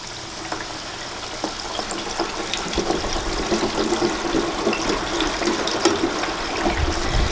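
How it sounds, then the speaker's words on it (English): Chicken wings deep-fry in oil heated to 375 degrees inside a fryer basket, giving a continuous loud bubbling sizzle that swells slightly toward the end, with no one talking. "my oil is heated to 375 degrees, and we're going to fry these for 12 minutes"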